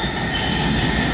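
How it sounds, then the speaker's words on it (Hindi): Naihati to Bandel local train running toward Bandel Railway Junction, a loud continuous rumble of wheels and carriages close by, with no talking. "Naihati Bandel local train T"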